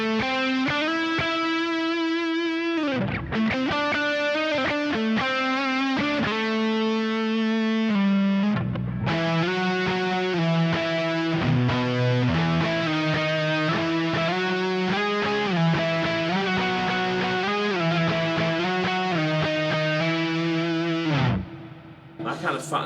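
Electric guitar played through a Boss OD-1X overdrive pedal and RV6 reverb, a sustained driven melody with thick harmonics and reverb tails, playing loud and continuous with brief pauses between phrases.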